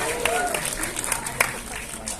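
An audience claps for Ayu Anastasia at a horror film cast presentation, a fairly quiet patter of hands with a few sharper claps, partly under a presenter's talk.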